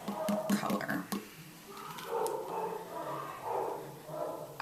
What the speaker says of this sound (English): I've got dogs downstairs going kind of crazy, so that's what all the noise is